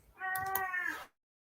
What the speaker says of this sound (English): if you don't mind, get this cat out.